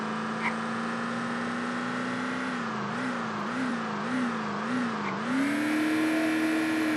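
A car engine in the zombie survival game VEIN holds a steady droning hum, then wavers up and down in pitch for a few seconds before settling into a higher, louder, even tone.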